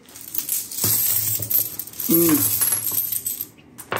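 Coins pour out of a piggy bank in a loud metallic cascade of clinks and jangles, with one sharp ringing coin standing out in the middle before the clatter thins out.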